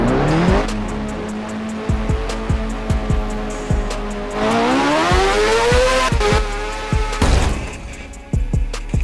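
Motorcycle engine of a fast bike, the Turbo Hayasobi, in the video game Motorcycle Mayhem, a loud rising and falling rev with clear pitch sweeps, punctuated by sharp repeated clicks and impacts.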